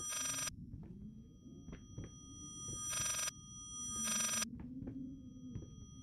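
Telephone ringing in the horror game Layers of Fear, with bright repeated bursts of ringing separated by pauses over a low, droning ambient hum, no talking.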